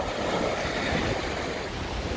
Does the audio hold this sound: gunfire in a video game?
no